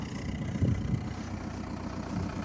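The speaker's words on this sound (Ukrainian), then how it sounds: "бачите, мотор ще працює, можна послухати, як робить мотор" Volkswagen Passat B5 1.9 TDI diesel engine running at a salvage yard, a low steady idle rumble with faint knocks, fairly quiet and without talk.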